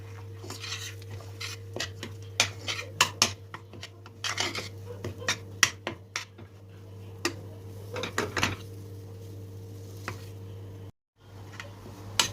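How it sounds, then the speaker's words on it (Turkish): A spoon scrapes and clinks against a pan as semolina is stirred and roasted in butter and olive oil, producing irregular close taps over a steady low electrical hum. "İrmiğimi kavurmaya başlıyorum"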